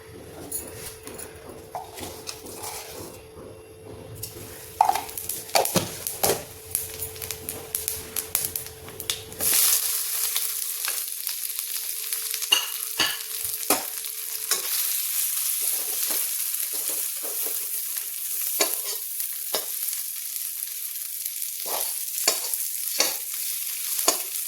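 Sabudana (sago) snacks frying in oil in a pan, with a steady loud sizzle that jumps up partway through as more pieces go in, plus occasional stirring clicks and scrapes and no talk.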